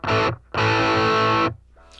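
An electric guitar plays through a Mooer GE300 amp modeler into a US Deluxe 112 cabinet miked with two SM57s, giving two loud, distorted chord strikes, a short one and then a longer sustained one, which stop abruptly.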